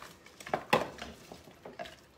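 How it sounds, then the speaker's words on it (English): A spoon knocks softly against a pot as broccoli is stirred into cheeseburger meatball pasta in a smooth cheesy sauce, giving a few faint, quiet clinks and soft wet shuffles. "Stir in our broccoli."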